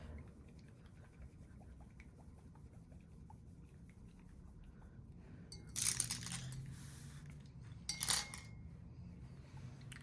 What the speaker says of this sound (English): So we'll just give this a shake.